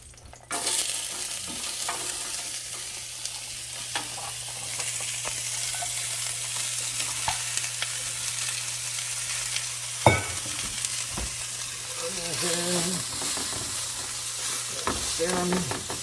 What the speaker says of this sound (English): Now, I'm gonna throw our onions in.